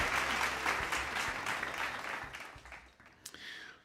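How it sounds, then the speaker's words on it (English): Applause from a crowd at a livestreamed music show, loud and steady at first, then thinning out and fading toward the end with a few scattered claps. "Listen to that crowd."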